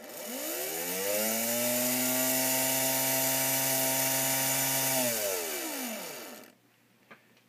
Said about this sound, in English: here's the old motor powered up again with the flywheel